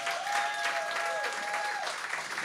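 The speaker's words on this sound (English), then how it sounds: "We'll have a round of applause for that." An audience applauding at an interview with Norman Cook in Brighton, a fairly soft, steady patter of clapping with a faint ringing tone running through it.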